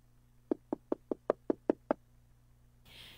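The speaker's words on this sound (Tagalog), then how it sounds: "May kumakatok!" Seven sharp knocks on a door in quick, even succession, close and distinct against a quiet background, followed by a soft hiss, in a Filipino radio drama.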